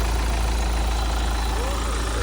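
A turbocharged car engine idling, a steady loud rumble with a continuous low drone that holds evenly throughout, heard up close with no break.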